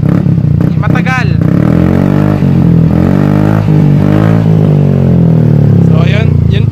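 A Mio Soul i 125 scooter fitted with a JAD Racing Evo 3 exhaust pipe revs up close and loud, its engine note rising and falling in pitch while people talk over it.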